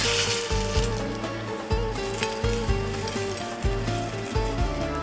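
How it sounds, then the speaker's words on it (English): Steady hiss of bread frying in hot oil for fatteh shawarma, sizzling close up with occasional stirring clatter and a low rhythmic tone underneath. "some just put the bread in the oven, but I like it the authentic, the old way. I like frying it."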